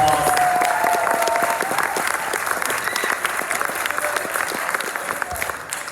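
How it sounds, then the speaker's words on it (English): A room of attendees at a bike summit gives a sustained round of applause, dense overlapping claps filling the space steadily for several seconds with a faint voice underneath. "We can give all of these people a round of applause."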